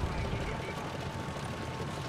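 A helicopter in War Thunder, a dense continuous rotor and engine roar at moderate level, steady across the short span.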